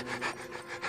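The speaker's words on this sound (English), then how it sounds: "I hope that was just panting." Heavy, rhythmic panting from a film, several quick breathy pulses in under a second, fairly loud and close with no talk over it.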